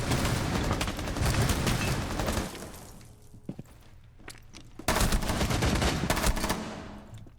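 Rapid gunfire in Rainbow Six Siege, loud bursts of automatic shots, then a quieter stretch with a few isolated cracks and footsteps before another long burst of firing.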